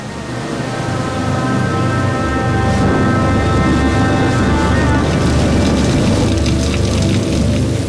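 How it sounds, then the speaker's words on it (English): Heavy rain pours steadily and loudly on the Nilgiri hills, a dense continuous roar with a faint low rumble underneath. "Rain continues to lash the hills until the Nilgiris are soaked through."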